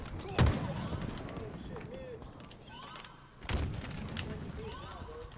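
Gunfire in a first-person shooter video game, two sharp loud bursts separated by a few seconds, with faint chatter and game noise in between.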